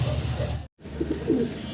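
German Beauty Homer pigeons cooing in low, throaty calls that repeat in a steady rhythm, close and fairly loud, with a brief gap of silence partway through.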